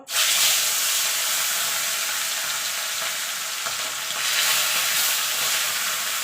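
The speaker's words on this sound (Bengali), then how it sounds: "মাছগুলোকে আমি এপিট উপিট করে লাল লাল করে ভেজে নেব" Pieces of rohu fish frying in oil in a kadai over a lowered gas flame, a steady bright crackling sizzle held close and even throughout, with no talk.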